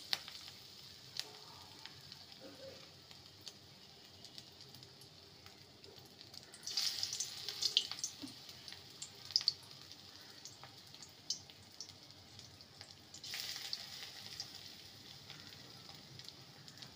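Prawn lentil fritters fry in hot mustard oil in a kadai on a gas stove, a faint steady sizzle with swells of louder bubbling and occasional light clicks.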